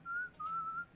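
A person whistles a clear, close tone in two sustained phrases with a short break between them, the second held a little lower, over a quiet room.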